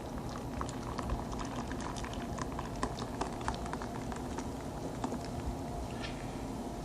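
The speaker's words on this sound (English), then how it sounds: "now that this has come to a boil" A pot of cilantro soup at a steady boil, with dense, even bubbling and soft popping throughout, fairly quiet and heard alone.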